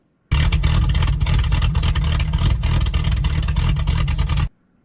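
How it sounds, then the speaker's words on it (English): A car engine with a misfire revs roughly and loudly up close, a harsh, sputtering drone that starts abruptly, runs steadily for about four seconds and then cuts off, with no talking. "if your car engine sounds like a wounded duck screaming, yeah, it's probably not healthy"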